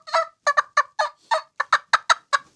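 A hunter's mouth call imitates a wild turkey cackle, a quick series of about a dozen clear, sharp yelping notes that speed up slightly, close and fairly loud with no talk over them.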